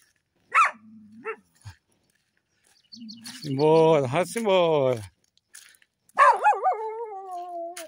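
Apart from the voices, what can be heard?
dogs barking on a rural path in the sertão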